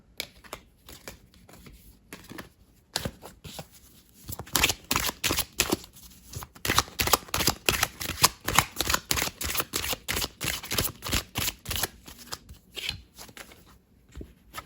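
Tarot-style cards for a reading are shuffled and handled close by, a long run of rapid crisp riffling and flicking clicks that starts sparse and builds into dense bursts, with no talking.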